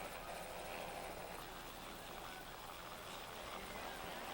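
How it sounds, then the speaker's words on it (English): A helicopter carries an injured Cresta Run rider to hospital in 1984, a steady, faint rotor drone heard from a distance throughout, with no other sounds. "the helicopter taking young Freytag down to the hospital in Samadon"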